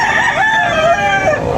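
A rooster crows once at a morning chicken market in Tabunok, Cebu, a loud, close, drawn-out call with a rising then falling pitch, standing alone without talk.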